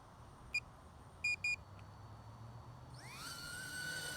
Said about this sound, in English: we're going to hit the button twice to fire up the motors